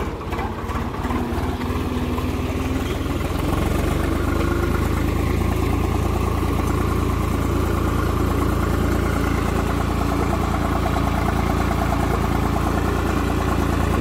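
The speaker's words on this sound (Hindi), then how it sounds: "भाई ट्रैक्टर तो कड़े प्यार से चल रहा है, आराम से चल रहा है" A farm tractor's engine runs steadily near at hand, a loud continuous low chugging drone that grows a little heavier after the first few seconds and holds without pause.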